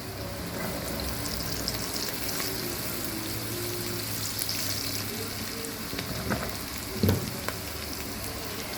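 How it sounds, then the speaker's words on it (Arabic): Onion fries in a pan with a steady, close sizzle and crackle that runs unbroken throughout, broken only by a brief stir or scrape near the end. "دي برضو البصله هنحمرها"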